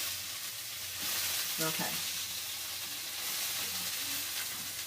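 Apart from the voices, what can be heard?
crab cakes frying in a pan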